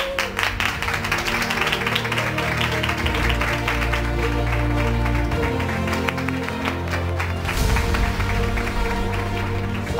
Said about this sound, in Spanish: Mujeres poderosas, vamos a dar un aplauso